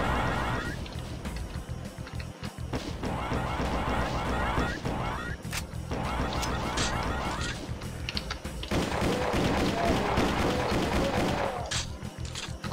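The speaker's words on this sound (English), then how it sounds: "Imps are replaced by these guys, who wield plasma guns." Rapid bursts of plasma gun fire from alien soldiers in the shooter game Mars Undying, loud and continuous volleys with brief gaps, layered over a dense combat din.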